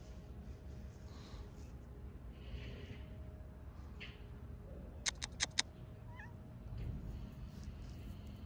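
A stray cat at the seaside gives a quick run of short meows, faint and close together, over a low, steady rumble of wind and surf.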